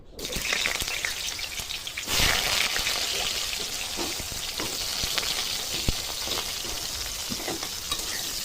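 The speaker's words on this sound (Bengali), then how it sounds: "ওই তেলে বেগুনগুলো ভেজে নেবো।" Eggplant pieces drop into hot oil and fry with a continuous close sizzle that swells sharply as they go in, joined by occasional pops and stirring clicks.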